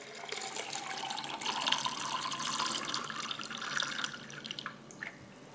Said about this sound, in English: I can fill this nice glass of water up here.